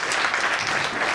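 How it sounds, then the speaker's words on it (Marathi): An audience claps loudly and steadily for Sachin at the Jallosh 2016 stage show, a dense wash of applause filling the whole short moment without any voices. "जोरदार टाळ्या सचिन साठी."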